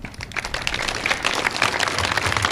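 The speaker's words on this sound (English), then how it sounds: "if we can give her a round of applause" Crowd applause at a veterans appreciation day of a university construction event, a dense, steady wash of many hands clapping that holds at an even level and swells slightly toward the end.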